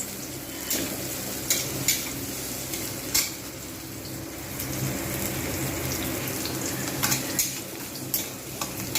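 Onions frying in a pan for aloo chokha, a steady crackling sizzle with scattered stirring scrapes and clicks, close and continuous with no voices.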